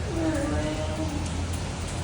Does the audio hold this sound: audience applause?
no